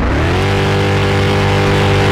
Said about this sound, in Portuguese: aí o ronco desse carro tá alto demais